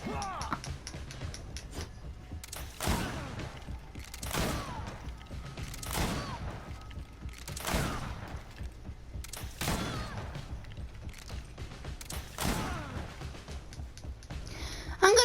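Gunfire in the action RPG GreedFall comes in repeated heavy bursts spaced a second or two apart, each a loud crack with a ringing tail, over a low game ambience.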